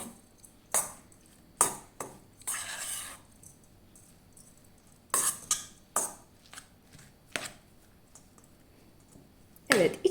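A spoon stirs pastry filling with nigella seeds in a bowl, giving scattered clinks and scrapes against the bowl in short irregular bursts, with quiet gaps between them.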